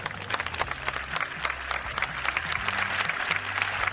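Attendees at the opening event of an Airbus facility give a final round of applause, a moderate, fairly distant crackle of many hands with a low steady hum underneath, continuing throughout.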